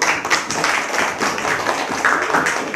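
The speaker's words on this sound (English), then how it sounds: "for their presentation, a barrio clap for them" Clapping from a classroom audience applauding students after their presentation, a dense, steady patter of many hands, fairly loud and close, with a few brief voices mixed in.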